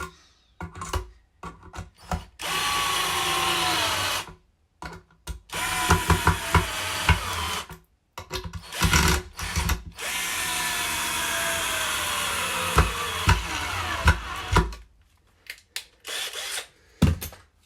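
A cheap Cjrelectrical cordless drill from Amazon driving a screw, with several loud whirring runs of a few seconds each separated by silences, the motor pitch shifting as the screw bites, close up.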